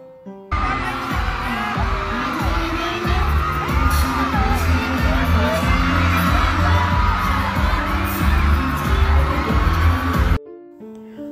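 Crowd of fans screaming and cheering at a live TV variety show, a dense loud roar of shrieks and shouts with thumping beats underneath, sustained throughout before cutting off abruptly.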